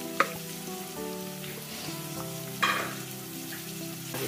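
Onion and garlic fry in olive oil for a grape leaves dish, a soft continuous sizzle with a few light knocks of stirring, with no voices.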